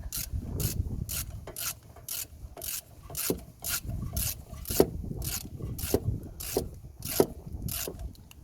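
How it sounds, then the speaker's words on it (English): On a Kia Ceed rear brake, the caliper piston is pushed back, giving a steady run of rhythmic, evenly spaced rasping clicks about three per second over a low scraping rumble, close and moderately loud. "with the other hand I'm just pushing the piston back"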